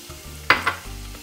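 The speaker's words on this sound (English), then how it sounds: "You can hear the little sizzle," Onions hit hot oil in a pan with a short sharp sizzle, two quick hissing bursts close up, then a low steady frying hum.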